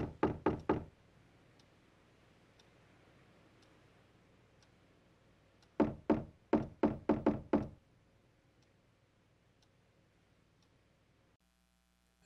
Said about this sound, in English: And all of a sudden there's a knock at the door.